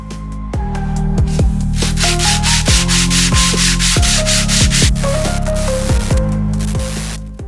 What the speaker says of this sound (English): I had to resort to a new method of sanding off the paint.